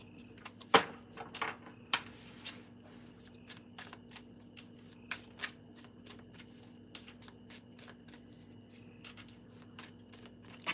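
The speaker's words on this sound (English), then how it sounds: "these cards are getting shuffled the hell out of tonight" A deck of tarot cards is shuffled in quick riffling bursts, close and crisp, repeating irregularly over a faint steady hum, with a sharper snap early on and lighter riffles and taps after.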